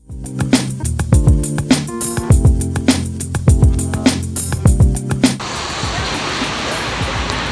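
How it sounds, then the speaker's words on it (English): Heavy rain pours outdoors in Berlin, a dense, steady hiss that takes over in the last two seconds after rhythmic music stops. "it's raining, it's pouring"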